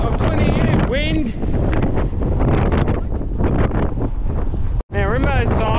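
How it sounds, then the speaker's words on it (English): Strong wind buffets a microphone outdoors on Granite Island near Adelaide, a loud continuous rumble under a person talking throughout. "wind!"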